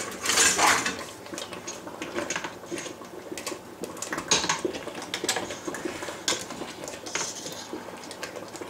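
A whisk beats seafood pot pie filling in a metal pot with rapid, continuous scraping and clinking, close and fairly loud, with no one speaking.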